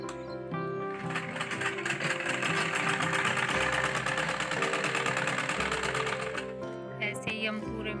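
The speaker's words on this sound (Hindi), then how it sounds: "नीचे से सिलाई लगाएंगे" A sewing machine stitches a pant or palazzo waistband hem with elastic tucked inside, a steady continuous mechanical whir running close and loud for most of the stretch, fading out near the end, with no talk over it.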